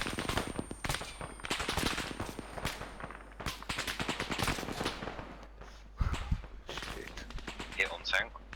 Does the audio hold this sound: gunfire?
yes